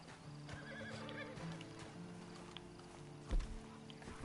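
A horse in the video game Red Dead Redemption 2 whinnies and snorts over clip-clopping hooves, with a steady background bed of ambient sound throughout.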